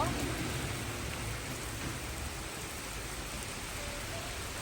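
Rain pours down in Italy during a spell of heat, a continuous close hiss of drops on surfaces, slightly louder at the start and then level, with no one speaking.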